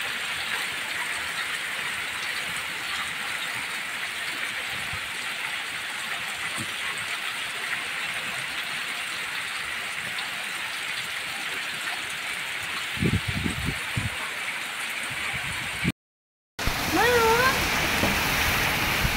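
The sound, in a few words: heavy rain in Haveri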